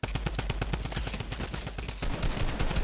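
Rapid gunfire bursts from a Fortnite battle, a steady stream of sharp shots close by that grows slightly heavier toward the end, with no talking.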